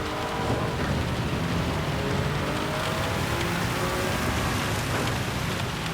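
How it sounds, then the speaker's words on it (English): Steady, dense hiss of heavy rain at Spa in the racing game Gran Turismo 7 fills the whole stretch without pause, a constant loud wash with faint engine-like tones underneath. "More rain."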